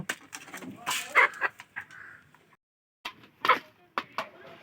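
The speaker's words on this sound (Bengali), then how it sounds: "মুরগিটাও চলে আসছে খাওয়ার জন্য মুরগিটা কিন্তু এখন গম খাচ্ছে" A chicken clucking nearby while eating wheat grain put out alongside pet pigeons, several short bursts of clucks with a brief pause between them.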